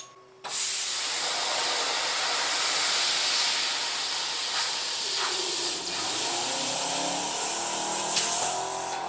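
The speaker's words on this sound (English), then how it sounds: "let's finish our cutting with some 1/8 inch thick aluminum, which is also 3mm." Fiber laser on an xTool Metal Fab cutting 1/8 inch (3 mm) thick aluminum plate, giving a steady, loud broadband hiss like a gas jet that runs almost unbroken for about eight seconds, with no talking.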